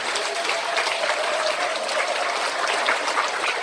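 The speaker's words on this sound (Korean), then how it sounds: "박수 한번 쳐주시기 바랍니다" A large crowd at a Liberation Day unification rally applauds continuously, a thick, even roar of many hands sustained at steady loudness throughout.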